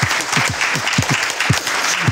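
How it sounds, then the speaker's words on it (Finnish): Seminar audience applauding themselves at a Finnish workplace wellbeing event: loud, continuous clapping from a sizeable nearby crowd, with individual claps standing out in a dense, even wash. "antakaa aplodit itsellemme."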